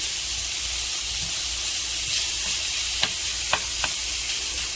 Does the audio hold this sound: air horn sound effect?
no